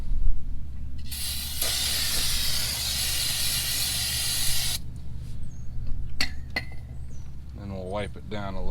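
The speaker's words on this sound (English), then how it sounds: "now I'm going to go ahead and spray this thing down." Aerosol spray blasts onto car brake parts during a Buick Lucerne brake job, a steady loud hiss lasting several seconds, followed by a few short clicks and handling noises.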